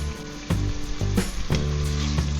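Chopped onion pieces frying in hot oil for a one-pot cheeseburger rice, a steady loud sizzle broken by several sharp bursts as the pan is stirred.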